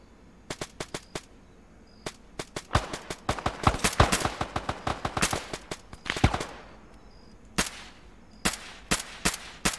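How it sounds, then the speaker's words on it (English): Bursts of gunfire during an SCP operation in a shooter game: sharp, fairly close single shots and rapid volleys, clustered densely in the middle and then spacing out into sporadic cracks. "I'm gonna start shooting."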